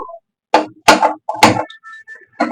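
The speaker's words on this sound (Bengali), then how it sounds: "ফ্রাইং প্যানটা বসিয়ে দিলাম" A frying pan set down on a gas stove in a home kitchen, giving several distinct knocks and clunks of metal against the burner grate, close and clear with short pauses between them.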